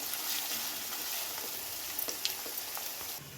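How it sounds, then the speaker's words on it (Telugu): Onion pieces frying in a pan for a restaurant-style prawn fry give off a steady, close sizzle, a dense hiss dotted with light crackles and pops, with no talking. "ఉల్లిగడ్డ అయితే మంచిగా గోలిందండి."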